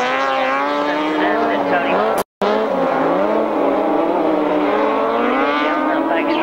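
Sidecar racing outfits lapping a circuit in the third sidecar race near the finish, their engines howling loud and continuous with shifting, wavering pitch, a brief cut midway, a commentator talking over them.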